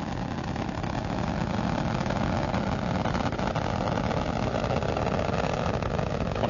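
Space Shuttle Atlantis lifts off on the STS-106 launch, its three liquid-fuel main engines giving a steady, heavy, broadband roar that holds unbroken throughout.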